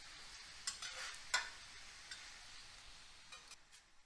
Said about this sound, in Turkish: Artık bundan sonra kısık ateşte etin cinsine göre pişecek.